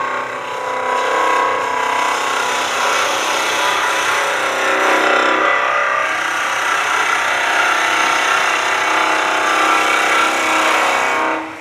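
Wood spindle cut on a lathe with a gouge, a steady loud rasping hiss that runs almost unbroken for the whole stretch, close and without speech.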